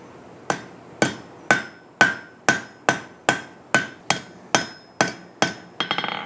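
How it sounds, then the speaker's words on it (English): A hammer strikes forged metal on an anvil face to flatten it, about a dozen sharp, evenly spaced ringing blows, close and loud, ending in a quick rattling flurry of lighter taps. "I'm just going to flatten that up on the surface of the anvil."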